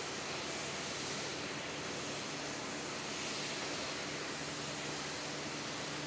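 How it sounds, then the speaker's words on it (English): A steady, loud roar of aircraft jet engines at Nagasaki Airport fills the whole stretch, a broad continuous rushing noise with no pauses. "that noise from those engines was really something."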